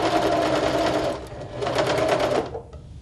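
A sewing machine running a half-inch seam, a fast steady mechanical whir that briefly slows and pauses before resuming close up and loud, then stopping near the end.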